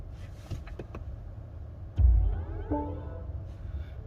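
Start-up tone of a 2022 BMW iX xDrive50 electric car, composed by Hans Zimmer: after a few soft clicks inside the cabin, a low swell opens into a rising, layered synthetic chime that rings on and fades.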